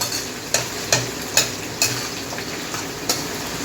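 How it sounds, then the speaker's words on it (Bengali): Chopped onions frying over medium heat in a pan, a steady sizzle broken by six sharp scraping clinks as a utensil stirs them at uneven intervals. "পেঁয়াজ কুচিটা একটু লালচে লালচে ভাব হোক, ততক্ষণ একটু নাড়তে হবে"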